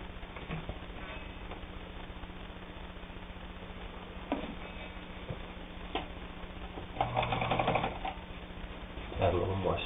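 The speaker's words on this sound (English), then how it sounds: "8 layers of heavy denim just slides right under the presser foot." A Necchi Supernova Ultra sewing machine stitches through 8 layers of heavy denim, giving a faint, rhythmic ticking stitch pattern under a person's quiet talking.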